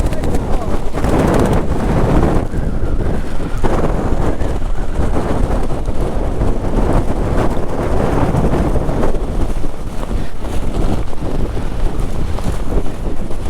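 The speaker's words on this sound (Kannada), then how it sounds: "ಗಾಳಿ ಇವಾಗ ಜಾಸ್ತಿ ಆಗೋಗೈತೆ." Strong monsoon wind during rain in the Chikmagalur hills buffets the microphone in a loud, continuous roar with gusty surges, filling the whole stretch.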